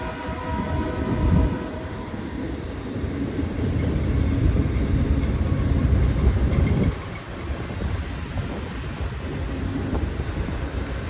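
A Union Pacific freight train with a Conrail car rolls past close by. The rumble and clatter of the cars is steady and loud, with wind buffeting the microphone.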